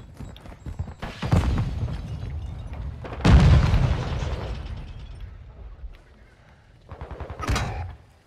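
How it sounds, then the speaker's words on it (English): A charge detonating on a target in Call of Duty MW2: several heavy booming blasts with rumbling tails, a loud one early, a stronger one mid-clip, and a sharper crack near the end. "set a charge on the target and detonate it."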